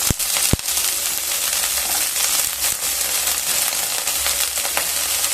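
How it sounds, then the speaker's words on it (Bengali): A large onion hits hot oil in a kadai, already fragrant with cloves and a little cinnamon, for kadai paneer, and is stirred. Loud, close, continuous sizzling follows a couple of sharp metallic clanks. "নেড়ে নেওয়ার পরে একে একে দিয়ে দেব একটা বড় সাইজের পেঁয়াজ"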